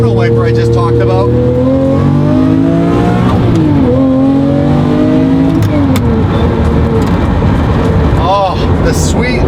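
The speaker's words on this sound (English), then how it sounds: "I'm gonna show you some of the funnest things about this car, which is the sound of that V12." A Lamborghini V12 engine revs loudly and close, its pitch climbing and dropping through several gear changes in a sustained roar, with tire noise and a voice talking over it.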